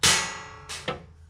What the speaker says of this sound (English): drop your bore snake down the barrel from the breech to the muzzle, that little brass weight on the end